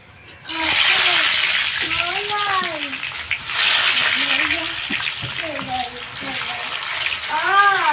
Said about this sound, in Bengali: ভালো করে মুচমুচে করে ভেজে নেবো পেঁয়াজের জন্য।